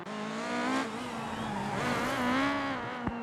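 Rally car engine in Assetto Corsa Rally, a steady loud drone with a rising and falling pitch as the handbrake is pulled for a turn, joined by a sharp transient near the end.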